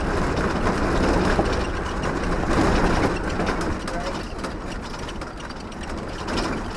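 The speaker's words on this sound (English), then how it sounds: "the noisy rattling of the Land Rover that made the road seem 10 times worse" A Land Rover on a dirt road on the way to Maralal, rattling and rumbling steadily and loudly throughout, a continuous rough mechanical roar with no clear breaks.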